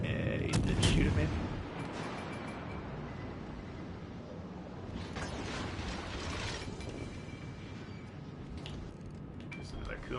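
An enemy ship fires artillery at a Japanese IJN cruiser in World of Warships Legends: a heavy booming salvo, then a second rumbling volley amid constant engine and water noise.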